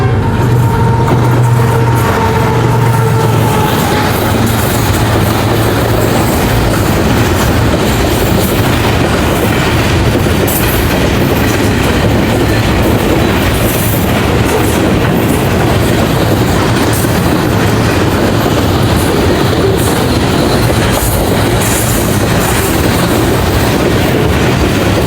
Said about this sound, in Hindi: अप साइड से कंटेनर ट्रेन आ रही है